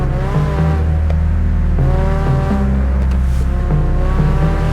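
A car engine in the Japanese Drift Master game revs loudly and continuously, its pitch stepping up and down through repeated gear shifts, with a faint tire whine underneath and no voices.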